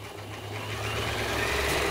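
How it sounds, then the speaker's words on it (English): Engine running at a steady idle, a continuous low hum with a tonal drone that grows slightly louder over two seconds. "there's the engine"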